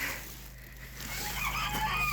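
Faint chickens cluck and squawk in the distance on a village farm over a low steady hum, with brief higher calls toward the end.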